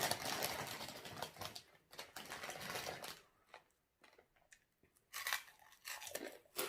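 Close crunchy chewing while eating smoked pork and som tam, a series of crisp bites and chews in bursts with short quiet pauses between, loud and intimate.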